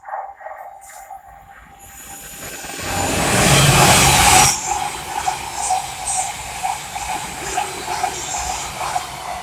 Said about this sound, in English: the Thameslink 700 from Brighton to Cambridge